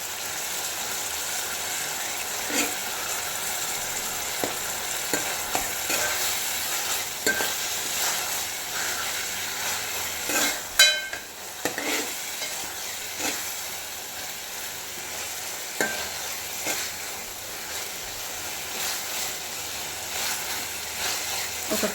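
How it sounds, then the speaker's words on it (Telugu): Masala paste of ginger-garlic paste, cumin, tomato, onion and chilli fries in a pan for an egg curry, giving a soft, steady sizzle broken by occasional scraping stirs and clinks. "ఒక 2-3 మినిట్స్లో కొద్దిగా ఇలా వేగితే సరిపోతుంది."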